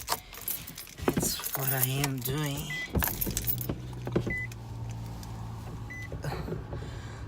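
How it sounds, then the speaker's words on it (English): A car is started in a snowstorm in Nebraska. Keys jangle close by, then the engine catches and settles into a steady low idle while people talk over it. "Let me start my car."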